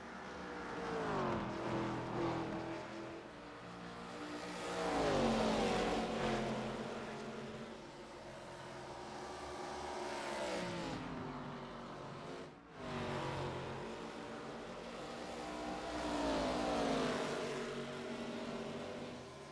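ARCA race cars at Rockingham heading toward pit road, their engines rising and falling in pitch as several cars sweep past one after another, loud, with a brief dip between passes.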